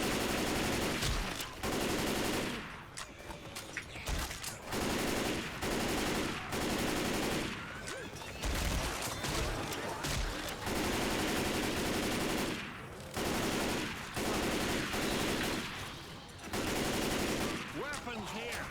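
Sustained automatic gunfire in Left 4 Dead 2 rattles almost nonstop in long loud bursts with brief gaps, a dense chaotic horde fight with voices mixed in underneath.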